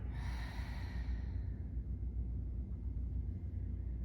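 A single long exhale during a gentle yoga session, a soft breathy rush that is strongest at the start and fades over about a second and a half, leaving a steady low hum behind it. Nobody talks.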